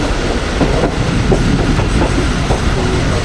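Sukkur Express passenger train rolling along the rails near Jangshahi station, a steady loud rumble with rhythmic clickety-clack wheel beats and brake noise.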